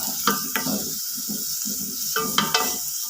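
Marinated chicken is sautéed in a pan for a chicken curry, a soft sizzle under repeated stirring scrapes and light clinks of a spoon against the pan.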